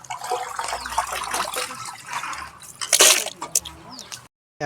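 Raw meat for a large village feast is rinsed and washed by hand in water, with splashing, dripping and trickling sounds, a louder splash near the end, and faint voices in the background.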